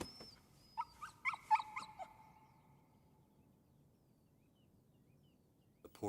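A dog in an animated film whimpers and whines in a few high, wavering cries close up, then falls quiet against a faint background hum.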